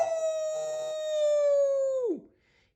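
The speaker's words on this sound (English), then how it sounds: "Pongo barked in a special code." A single long, steady dog howl holding one pitch, then dropping sharply at the end before fading into quiet.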